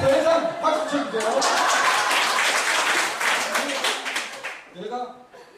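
A lecture audience at a school-violence prevention instructor training course breaks into hearty applause with a few chuckles, building quickly then fading near the end as a voice starts talking.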